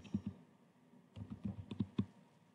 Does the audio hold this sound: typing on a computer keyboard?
yes